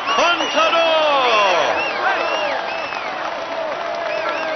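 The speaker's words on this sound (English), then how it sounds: "Come on, let's applaud him once more." Crowd cheering and applauding in the Tour de France 2014 video game on PS4, a dense continuous wash of clapping and whoops with whistles, loud and sustained.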